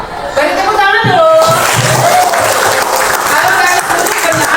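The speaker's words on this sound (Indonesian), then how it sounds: "Beri tepuk tangan dulu" Students in a grade 7 social studies classroom clapping on the teacher's cue, a short burst of applause mixed with chatter and a few chuckles, with voices talking over it.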